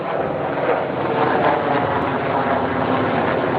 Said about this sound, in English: the helicopter flying over me